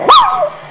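A single sharp, close dog bark, loud and brief, with a short whining tail that fades quickly.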